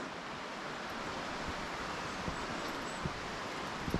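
Steady broadband rush of a mountain valley stream flowing along a hiking trail on Biseulsan in Daegu, South Korea, continuous and even with a few faint knocks, no talk.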